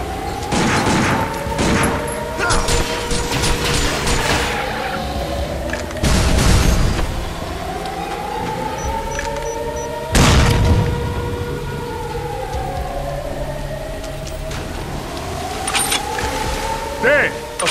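A powerful energy weapon fires in Binary Domain, producing heavy booming blasts at intervals over rising and falling synthetic whines and game ambience, with voices talking over it.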